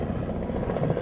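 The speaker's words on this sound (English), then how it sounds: "So there's a helicopter tour that is right over there." A tour helicopter flies overhead with a steady low rotor thump and engine drone, moderately loud and continuous for about a second, with no talking.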